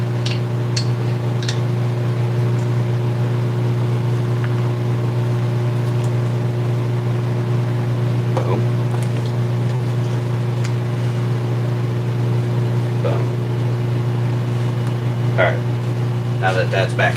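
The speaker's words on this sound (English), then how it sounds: "I know that microwave's pretty loud on the video" A microwave oven runs with a loud, steady electrical hum and drone that stays constant throughout, with occasional light clicks and clatter in the background.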